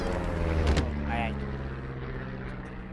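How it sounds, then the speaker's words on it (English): An airplane flies overhead in the video game Firewatch, heard as a steady, fairly loud low engine rumble that holds throughout with a brief sharp tick early on. "You see that plane?"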